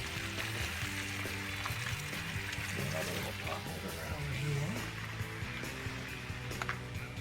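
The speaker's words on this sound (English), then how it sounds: "Grab these potatoes. Woo! Listen to them sizzle." Potatoes sizzle on a Big Green Egg grill, a faint, continuous frying hiss with soft crackles running throughout.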